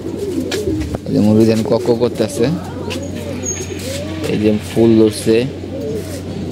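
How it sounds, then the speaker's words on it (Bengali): Gola pigeons in a coop coo softly and repeatedly nearby, with their low, rolling calls running under a man's close speech. "আর এখানে আমাদের কিছু গুল্লা কবুতর আছে, জোড়া দিব।"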